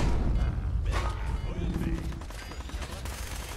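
Machine gun fire in Fallout 4, a dense stretch of rapid gunshots and impacts that starts loud and continues through the clip, mixed with a speaking voice.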